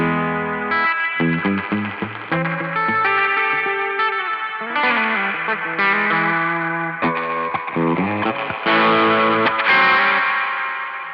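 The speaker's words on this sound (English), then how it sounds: "It has a real springy sound now" An electric guitar runs through a Death By Audio Reverberation Machine pedal set to a bright, springy reverb. Chords and picked notes ring out loud and alone, with a washy, distorted tail that blurs each attack.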